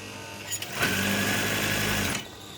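A sewing machine stitches kitchen curtain fabric in one short, fast, even run of about a second and a half. It starts and stops abruptly, with quiet handling noises before it begins.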